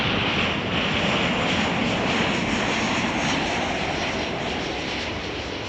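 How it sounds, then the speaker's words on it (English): A United Airlines Boeing 737 jet passing at Chicago O'Hare makes a continuous loud engine roar and rushing air noise, fairly even and slowly easing off toward the end, with no talking. "This is a United 737."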